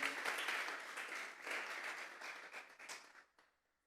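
A church congregation applauding together as an offering to God, dense clapping from many hands that swells, holds, then tapers off and ends abruptly.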